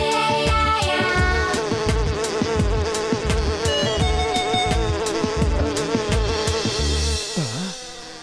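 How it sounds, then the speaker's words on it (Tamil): Bees flying near a hive outdoors, a dense buzzing drone layered with loud, continuous cartoonish music and rhythmic percussion that nearly dominates, ending in a short descending swoop. "தேனீக்கள் பறக்கிறத பார்த்தா"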